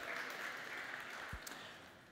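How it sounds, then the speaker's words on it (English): Applause from the audience at a startup pitch event, a continuous, faint, even wash of clapping from a crowd at some distance. "Excellent, give her a big applause."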